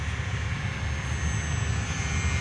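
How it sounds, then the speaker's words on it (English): An Aeroscout RC airplane, flying gently in a stabilised beginner mode on its first flight, gives off a steady, continuous propeller-engine drone at a moderate distance with no talk over it. "the airplane is flying nice and gentle as we expected it to with safe"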